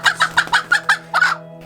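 A broody hen clucks in a run of seven short, close, fairly loud pulses, the last one drawn out, over a steady low hum with no talk.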